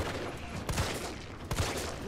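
Gunshots aimed at a zombie's leg in Resident Evil 3, two distinct shots roughly a second apart, each a sharp crack over a constant background drone, moderately faint.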